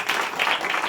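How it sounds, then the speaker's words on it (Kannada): A church congregation claps during a sermon, a brief burst of dense applause lasting under a second at moderate level. "ಚಪ್ಪಾಳೆ ತಟ್ಟಿ ಕರ್ತನಿಗೆ ಮಹಿಮೆ ಪಡಿಸ್ರಿ"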